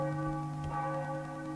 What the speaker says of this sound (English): Is ringing church bells in my ear.